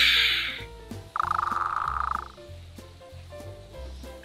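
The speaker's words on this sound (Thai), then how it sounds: "เฮ้ยแถวนี้มีตุ๊กแกด้วยหรอ" A gecko calls in a short rhythmic croaking burst over a busy background of music and other sounds, standing out clearly for about a second near the middle.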